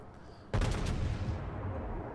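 A heavy naval gun salvo from a battleship in World of Warships booms out suddenly after a quiet moment, a loud, deep blast with a short rumbling tail that fades slowly.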